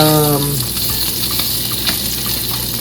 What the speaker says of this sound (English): Because bacon really don't take that long to cook